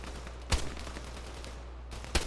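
Gunfire in the military shooter game Arma 3, heard as two sharp, loud reports about a second and a half apart over a steady low background hum.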